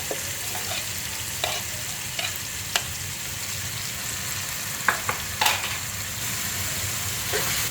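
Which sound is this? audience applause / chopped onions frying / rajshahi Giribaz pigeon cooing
chopped onions frying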